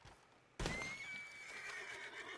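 A horse in Red Dead Online gives one loud, sustained whinny that bursts in suddenly after a quiet moment and trails off slowly.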